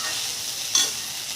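Chopped coriander stems being sautéed in a pan, a soft sizzle and frying hiss with one brief stir near the middle, close and alone.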